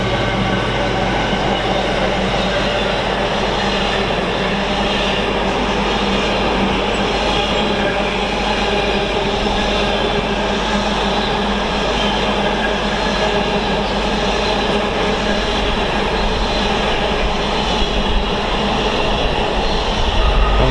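Class 66 diesel freight locomotive 66765 hauling a freight train through Stafford station on the West Coast Main Line, a loud, steady roar of engine and rolling wagons lasting the whole time, close by with a faint wheel squeal and no talk.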